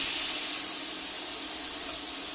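Tomatoes cook in a pan for tortilla soup, giving off a steady, loud broadband sizzle with no breaks as their juice releases.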